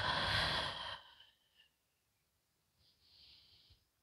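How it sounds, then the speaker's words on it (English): A deep yoga breath, a long airy exhale loud at the start and fading within a second, then a brief quiet pause and a softer breath a few seconds later, close and alone without talk. "let's inhale and exhale."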